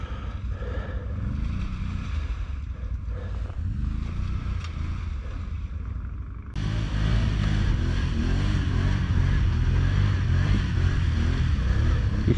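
An ATV engine labours up a snowy winter trail, a steady low rumble running throughout that grows louder and fuller about halfway through as the machine pushes closer.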